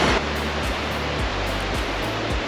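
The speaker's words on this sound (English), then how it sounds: "As you probably can hear in the background, there's little waterfalls and rushing water all over the rocks." Small waterfalls and rushing water pour over rocks at Falls Creek on New Zealand's South Island, a steady, loud, full-bodied roar that never lets up, with nobody talking.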